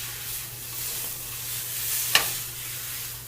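Garlic sizzles steadily in a hot pan during a black bean pasta stir-fry. A continuous close frying hiss is broken once by a brief clatter as the food is tossed.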